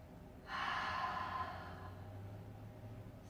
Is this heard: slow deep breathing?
yes